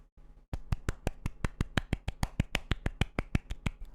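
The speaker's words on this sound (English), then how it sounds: "I hope the sound of the clapping is being picked up on the microphone" Hands clap rapidly and steadily, about twenty crisp claps in even rhythm, close and distinct against near silence.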